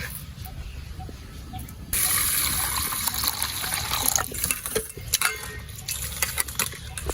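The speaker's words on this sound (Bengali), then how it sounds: "মুগের ডালটা আমি হালকা করে উলিয়ে নিয়েছি, এবার ভালোভাবে ধুয়ে নেব" Mung dal lentils are washed in water for a vegetable khichuri. After a quiet start, water begins to run and swish steadily, close by, with small splashes and clinks throughout.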